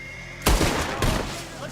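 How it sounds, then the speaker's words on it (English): Two sharp, loud gunshots ring out in Red Dead Redemption 2 as a lock is shot, about half a second apart, each with a short echoing tail. "Go shoot that lock."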